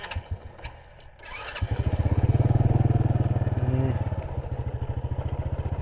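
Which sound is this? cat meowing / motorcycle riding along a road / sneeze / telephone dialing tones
motorcycle riding along a road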